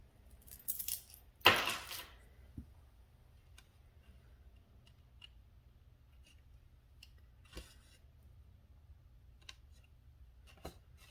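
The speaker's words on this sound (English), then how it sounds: "Very carefully come in here and cut the waist knot." Scissors snip a thread knot on a counted stitching canvas, a sharp close snip and rustle near the start followed by faint scattered ticks and small handling sounds in a quiet room.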